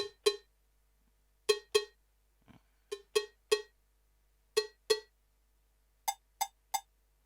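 Sharp, bright, uncompressed pad hits from a Roland R-70 drum machine struck one at a time in short pairs and singles, each a clean metallic tap ringing briefly before silence.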